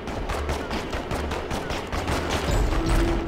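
Rapid gunfire from the video game Boom Blox, a dense continuous fusillade of shots filling the whole stretch, loud and steady.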